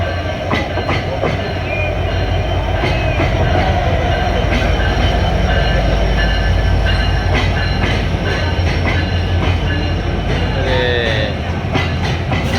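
The Simanta Express passenger train runs into Parbatipur railway junction at night, heard from on board as a loud, continuous rumble with rhythmic wheel clatter and occasional squeals. A voice speaks faintly beneath it.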